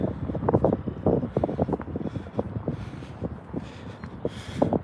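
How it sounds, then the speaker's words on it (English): Gusty morning wind buffeting a handheld camera outdoors, a steady rumbling roar with repeated low thumps from the gusts against the microphone, loud throughout with no talk. "Just a little bit windy in the morning now"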